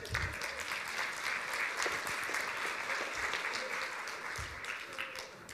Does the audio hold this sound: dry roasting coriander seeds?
no